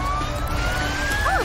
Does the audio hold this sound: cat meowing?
no